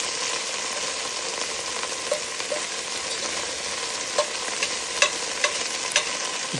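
Beef chunks for stew searing in a hot pan, a steady close sizzle with occasional pops and the clink of stirring.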